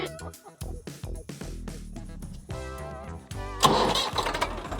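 A tractor engine cranks and catches in a farm setting, with a fast, loud starter churn that settles into a rough mid-pitched running rumble, close to the listener.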